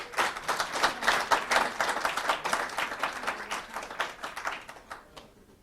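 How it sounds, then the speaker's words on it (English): An audience at a conference applauds to welcome a speaker, with dense, even clapping from many hands at a steady level before it thins out and stops near the end. "A round of applause."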